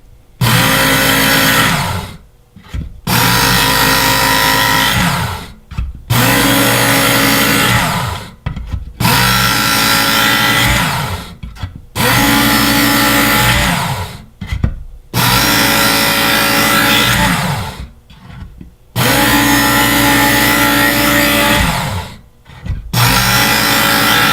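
Work Sharp electric knife sharpener running loud and close in repeated bursts of two to three seconds each, whining motor pitch sagging and recovering as a blade is drawn across the abrasive belt, with short silent gaps between passes.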